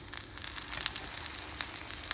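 A soft, steady sizzle of prawns frying in hot oil in a pan, with small pops and crackles scattered through it.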